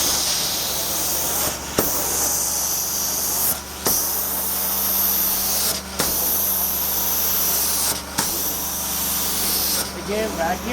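An Amtex Inferno 500 carpet cleaning machine with continuous heat sprays and vacuums carpet in a loud, steady hiss and roar, broken by short gaps about every two seconds as each stroke ends and the next begins.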